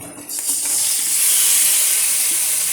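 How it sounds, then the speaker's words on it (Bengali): Boiled ash gourd tipped into a hot kadai of well-fried spices gives a loud, steady sizzling hiss that starts abruptly and carries on unbroken, with no talking. "এবারে আমি কড়াইতে দিয়ে দিলাম সিদ্ধ করে রাখা চাল কুমড়ো"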